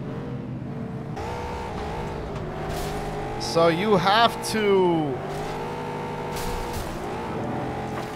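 Cars engines roar and rev continuously during a FlatOut: Ultimate Carnage race, with a brief screech or crunch midway, while a person speaks over the racing noise.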